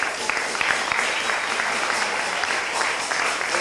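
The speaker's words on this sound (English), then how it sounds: "Give a big round of applause for the father of our lovely bride today" A wedding crowd gives a steady round of applause for the bride's father, dense clapping holding at an even level throughout with no talk over it.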